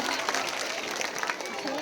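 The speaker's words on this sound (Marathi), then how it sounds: "आता जोरात टाळ्या वाजवून जाऊ द्या." Audience applause at a school event, a dense and steady burst of many hands clapping together that lasts under two seconds.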